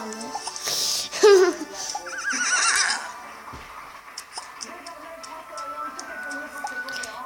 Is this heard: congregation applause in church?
no